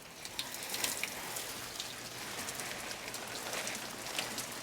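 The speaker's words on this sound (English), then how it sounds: "So I do go through and give them all a rinse on their leaves" Water rinsing dust off the leaves of house plants, a steady soft hiss of fine spray and patter pattering on foliage, quiet and continuous with no talking.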